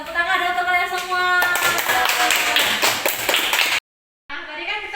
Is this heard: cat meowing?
no